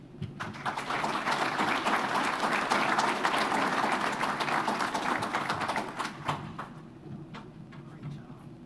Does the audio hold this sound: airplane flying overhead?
no